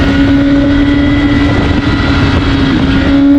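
A BMW S1000RR superbike being ridden, its engine a loud, steady high-pitched drone with strong tonal hum and wind rush throughout.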